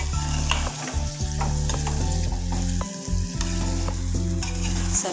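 Mixed vegetable curry with crushed kasuri methi is stirred in a pan, a continuous loud sizzle with rhythmic scraping and clanking of the spoon against the metal.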